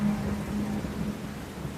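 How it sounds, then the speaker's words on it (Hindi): Steady rain with thunder rumbling underneath, a continuous hiss of rainfall at even loudness with a low rolling undertone and no voices. "बारिशें आ गई"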